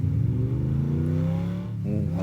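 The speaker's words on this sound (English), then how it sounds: "Ooh, I love the sound of that car." A car engine revs with a steady, throaty drone that rises slightly in pitch, heard close and loud without any talking.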